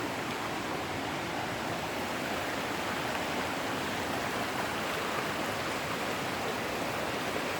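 Kokanee Creek flows in a steady, dense rush of water, an unbroken broadband wash that stays even and fairly loud throughout, with no voices.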